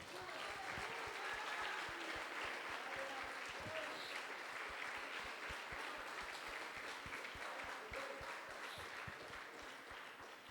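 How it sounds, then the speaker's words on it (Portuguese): A church congregation applauds during a worship service, steady dense clapping with a few louder close claps that runs the whole time, and faint voices beneath it. "Aplauda o Senhor."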